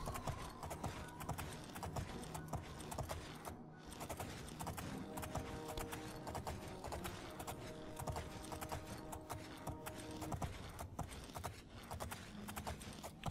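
A horse galloping in the video game The Elder Scrolls IV Oblivion, with steady rapid hoofbeats running continuously under a layer of game music for the whole stretch.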